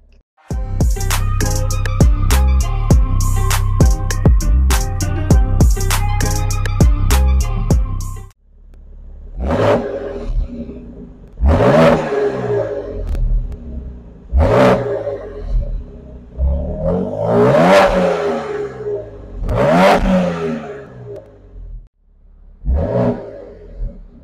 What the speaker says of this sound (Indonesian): coba saya bikinkan video khusus suara knalpotnya seperti apa gitu ya